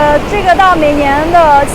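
Roaring river water in Tiger Leaping Gorge on the Yangtze in Yunnan makes a constant, heavy wash of noise beneath a person speaking loudly up close.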